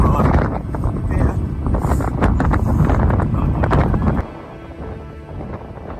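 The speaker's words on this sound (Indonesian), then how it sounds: "angin semakin kencang" Strong wind buffets the microphone on the summit of Mount Slamet, heavy low rumbling gusts that roar loudly for several seconds, then drop abruptly to a quieter, steadier blow.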